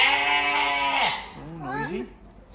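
A sheep at a farm bleats loudly nearby, one long wavering call followed by a shorter quavering bleat.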